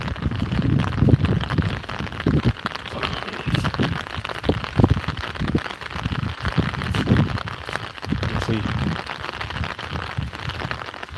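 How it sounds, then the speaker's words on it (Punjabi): Steady rain falls continuously, a dense patter on surfaces with occasional louder drips and crackles throughout, no voices. "ਲੋੜ ਸੀ ਮੀਂਹ ਦੀ"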